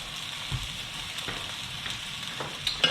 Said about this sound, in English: The next step is to add the cream. This is just everyday cooking cream for pasta.